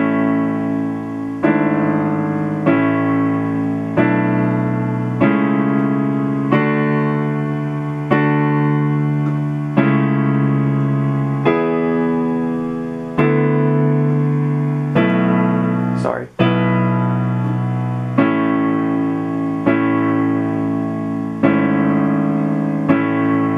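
A slow piano rendition of a song played with both hands, chords struck steadily one after another with a single sharp click partway through.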